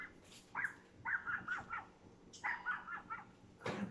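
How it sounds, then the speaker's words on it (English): Small dogs bark in a kitchen, several sharp high yaps in quick bursts, moderately close, with short pauses between volleys and no talk over them. "They bark, bark, bark. They bark a lot."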